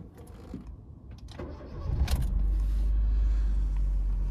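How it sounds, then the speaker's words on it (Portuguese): A 2007 Honda Fit engine starts with a short cranking whir that catches, then settles into a steady, close, low idle, with some faint handling noises before the start. "vamos começar a nossa condução do Honda Fit"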